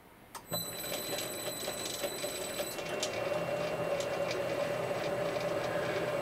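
Brass thumb screw turning slowly on a lathe as the paired knurling rollers close in from each side, a steady mechanical whir with a thin high whine and faint rhythmic ticking throughout.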